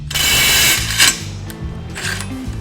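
A Milwaukee M18 impact driver hammers against a fastener set to 200 foot-pounds: a loud, sustained mechanical rattle for most of a second, then shorter bursts of impacting, up close and alone.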